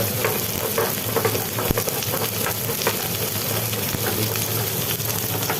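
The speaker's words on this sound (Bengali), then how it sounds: "আলু পেঁয়াজটা ভাজা হচ্ছে" Sliced potatoes and onions frying in oil in a pan, a steady close crackling sizzle with occasional stirring scrapes, no talk.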